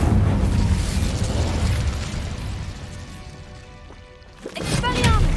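Incendio spell blasts in Hogwarts Legacy, loud fiery booms and crackling bursts that fade off toward a quieter middle, then a fresh roaring eruption near the end, with voices speaking over the action.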